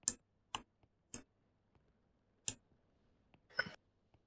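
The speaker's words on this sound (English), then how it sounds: "Oh, that's the clock." Sparse, sharp clicks from a clock in a Roblox horror game, irregularly spaced over a few seconds against near silence, faint and isolated with no voices.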